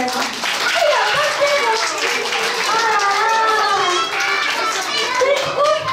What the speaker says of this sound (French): Je crois qu'on peut l'applaudir encore même.